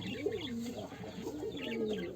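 Pigeons coo in a pigeon farm, with two soft, rolling calls close by and some faint chirps behind them.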